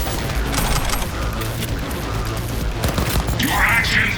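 Rapid gunfire in the Cyberpunk 2077 video game crackles densely and loudly for the whole stretch, with a brief synthetic tone near the end.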